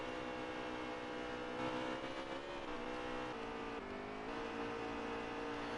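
Racing trucks at Atlanta in a truck series roar past in a steady pack, engines whining and shifting pitch as they run side by side, a continuous even drone.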